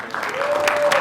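A brief burst of crowd applause at a community celebration of Martin Luther King Jr.'s birthday, a steady clatter of clapping with a faint sustained tone underneath.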